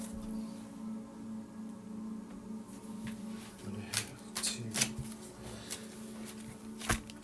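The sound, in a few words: shuffling tarot cards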